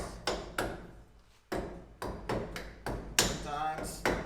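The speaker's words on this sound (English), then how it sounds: "all you do is just tap this thing into place." A rubber hammer taps a trailer hub bearing into place, giving about nine sharp, close knocks in an uneven rhythm with soft rustling between strikes and no voices.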